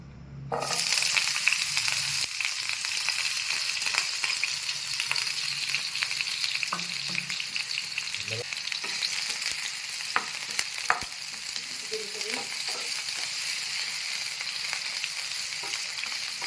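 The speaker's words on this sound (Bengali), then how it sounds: "ডুমু ডুমু করে কেটে নিয়েছি। এটাকে ফ্রাই করব।" Diced potato frying in a pan, a steady dense sizzle with occasional stirring scrapes, close and fairly loud throughout with no voices.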